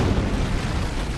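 A short, broadband blast from an antimatter charge detonating in a Halo video game, a dense rumbling roar that stays loud for its whole brief length with no talk.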